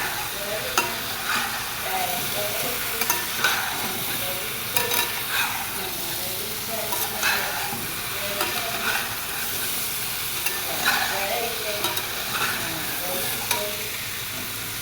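Vegetables frying in a pan give a dense, steady sizzle with repeated scraping stirs at a regular pace, close and fairly loud throughout.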